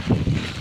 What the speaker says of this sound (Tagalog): Lakas ang hangin. Bagyong Uwan.